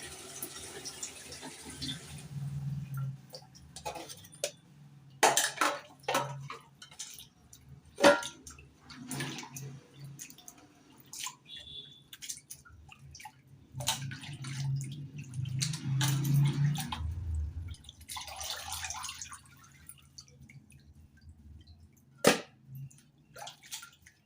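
Meat and fish are scrubbed by hand in water, with scattered splashes, drips and sloshing in uneven bursts, fairly close and moderately quiet, alongside occasional handling clatter.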